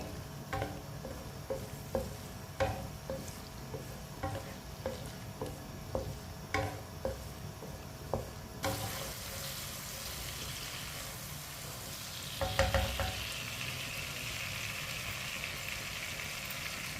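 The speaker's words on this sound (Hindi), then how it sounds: "लहसुन, लहसुन और टमाटर को 2 मिनट के लिए पका लेंगे।" Finely chopped garlic and tomato sizzle softly in a pan while a utensil stirs and taps at a steady pace, the frying growing brighter and hissier halfway through.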